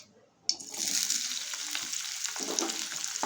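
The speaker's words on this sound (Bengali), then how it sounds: "পেঁয়াজটা একটু হালকা করে ভেজে নেব" Chopped onions hit hot mustard oil in a wok with a sudden loud sizzle after a brief quiet moment, then keep up a steady, close hiss of frying.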